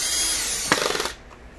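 A power drill drives a screw into the plastic bottom plate of a Hoover vacuum, a close high whine that ends in a brief run of ratcheting clicks before stopping.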